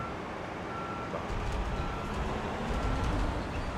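Construction vehicle on a building site in Construction Simulator 2022, its reversing alarm beeping faintly and repeatedly over a loud, continuous engine rumble, with no voices.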